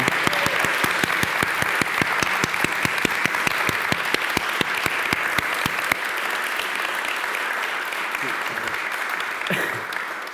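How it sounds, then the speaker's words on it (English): A room of listeners at an evening talk applauds warmly, starting with crisp, strong rhythmic clapping that gradually thins and softens toward the end as the ovation winds down. "a huge round of applause, please, for Marwan."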